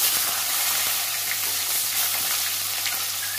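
Cardamom pods, a cinnamon stick, bay leaf and a tomato fry in hot oil for a cabbage and potato dish, making a loud, continuous, close hissing sizzle with faint crackles.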